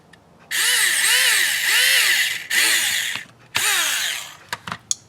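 A small Tamiya electric hand drill whines in several bursts while drilling a hole, its pitch dipping and rising as it bites, then a few short clicks and taps at the end.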